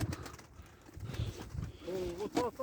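Cooing from a flock of old-breed pigeons in a loft or coop, soft throaty calls repeating close by, with muffled background activity.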